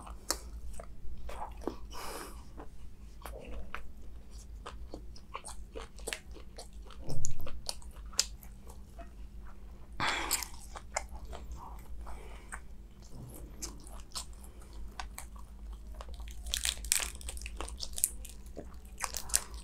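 Close, crunchy bites and wet chewing of heavy curry dishes such as spicy mutton, prawn and chicken curry with lobster, repeating in irregular bursts over a quiet room with no talking.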